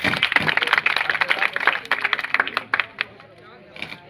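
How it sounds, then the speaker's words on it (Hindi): Audience at a school farewell ceremony applauding a teacher, dense rapid clapping from many hands that thins out toward the end, with a voice speaking over it. "एक बार जोरदार तालियां सर के लिए।"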